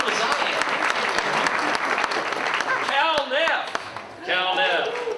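Audience applause with scattered cheers and whistles greets a named guest being introduced at a Hellenic cultural society gathering, dense and steady throughout, with a voice talking over it near the end.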